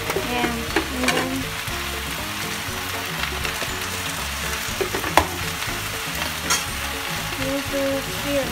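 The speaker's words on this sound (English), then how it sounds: "we need to stir." Water spinach stir-frying with preserved bean curd in a wok, a steady close sizzle and crackle throughout with occasional louder spatters and utensil scrapes, no talking.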